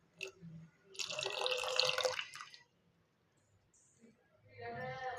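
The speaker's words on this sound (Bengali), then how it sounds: "এবার এর ভিতরে সেই কর্নফ্লাওয়ারের মিশ্রণটি ঢেলে দেব।" Cornflour mixture being poured into heated milk in a pot while making sweet yogurt, a soft liquid splash and trickle lasting about two seconds, close by, then quiet before a faint clatter.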